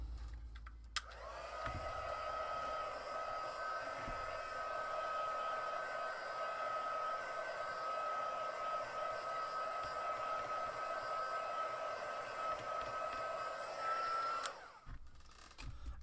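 A heat tool drying shimmery background paper in a craft session, a steady high whirring blow that switches on with a click and runs for about thirteen seconds before cutting off, close and even.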